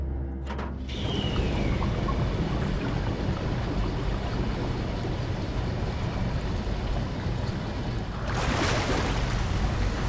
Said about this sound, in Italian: Tiriamo lo sciacquone.